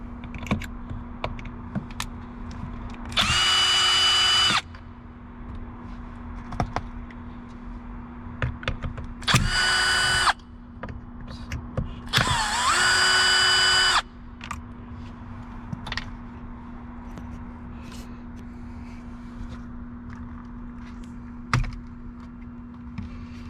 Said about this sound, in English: there's just 2 screws, 1 and 2, and then those guys will come right off